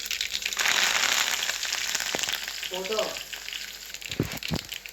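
Curry leaves tempering in hot oil for Betageri chutney sizzle and spatter steadily at close range, with crackling pops and stirring clatter breaking through the frying hiss.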